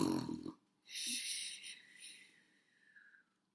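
A voice imitates snoring during a read-aloud of a children's story, giving a short breathy snore-like rumble after a brief spoken sound, then a longer drawn-out nasal tone that fades.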